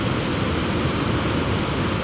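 A river rushes past in a steady, dense wash of flowing water, loud and constant throughout with no pauses or other sounds.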